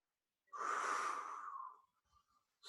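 A single long, breathy inhalation drawn in through the nose during a yoga locust pose, close and fairly loud, then fading into quiet.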